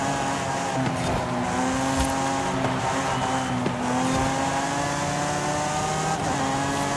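A Lotus Exige races and corners in Forza Horizon 5, its engine holding a steady, droning tone near and loud, with gear changes and brief dips as it brakes and sweeps through turns, alone without talk.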